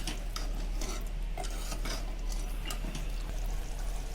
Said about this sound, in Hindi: अब उसको अच्छे से मिला देंगे इसमें। थोड़ी देर भुनेंगे इसको इसी तरह से।